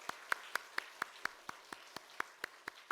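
Congregation in a church sanctuary applauding during a Sunday morning worship service, a run of about a dozen evenly spaced sharp claps at a steady rhythm, moderately close and fairly quiet, with no talking.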